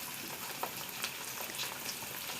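Papad frying in hot ghee gives a steady, dense sizzle with faint bubbling crackles, close and continuous for the whole moment, with no voices.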